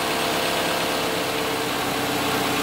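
A 2018 Toyota RAV4 engine idles at operating temperature during a coolant change, producing a steady, even hum with a faint vibration and no talking.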